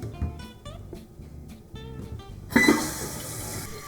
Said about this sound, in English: Check the top of the tank to be sure it's filling properly.